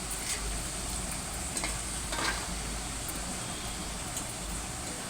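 Sweet corn frying in hot oil like bajji, a steady dense bubbling sizzle at an even level with occasional faint clinks, and no voices.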